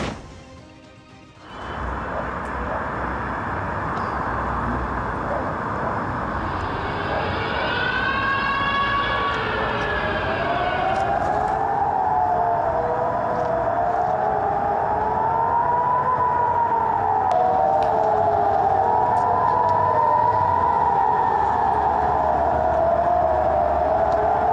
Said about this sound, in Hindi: तो ये एयर स्ट्राइक और उस पर बजते हुए सायरन